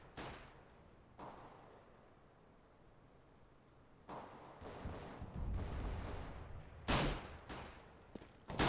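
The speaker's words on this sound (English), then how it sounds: "So, shots going down towards those B tunnels." Gunfire in a Counter-Strike match between SK Gaming and Astana Dragons, with several sharp bursts of shots at different distances over quieter ambient game noise, louder volleys near the end.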